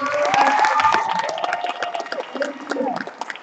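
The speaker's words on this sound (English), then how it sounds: "Let's give everyone a big round of" At the closing of a debate tournament's award ceremony, a crowd applauds and cheers in a loud, dense wash that thins toward the end. Excited voices and shouts ride over the clapping.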